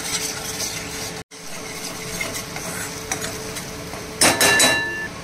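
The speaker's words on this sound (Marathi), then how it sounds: "कांदा खोबऱ्याचं वाटण परतत असतानाच आपण थोडंसं कढीपत्ताही टाकूया।" Onion-coconut paste is sautéed with curry leaves in a pan for a dhaba-style egg curry, a continuous close sizzle with scraping stirs and a brief louder spatter burst near the end.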